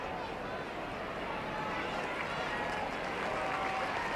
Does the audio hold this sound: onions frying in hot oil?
no